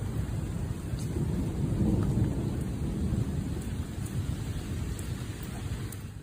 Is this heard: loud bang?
no